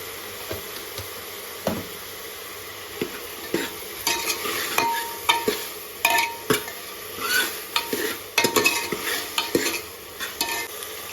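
Onion, tomato and capsicum cooking in a pan for pav bhaji with a little salt, soft sizzle under bursts of stirring and scraping spoon-against-pan clatter, close by, growing busier toward the end.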